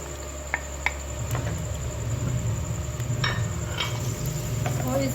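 Chopped onion frying in 5 to 6 tablespoons of hot oil in a pan hisses and crackles steadily and close, with a couple of light knocks at the start.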